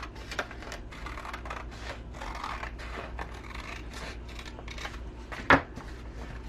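Scissors cutting a paper folder piece in half, a run of soft rasping snips close up, ending with one sharper cut.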